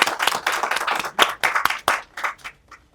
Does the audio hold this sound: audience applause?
yes